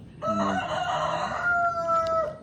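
A rooster crows in a long drawn-out call, with a few soft clucks near the start, close and loud with no talking.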